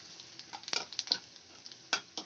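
Quiet crackle of seeds sizzling in hot oil, with scattered sharp pops and spits over a faint hiss.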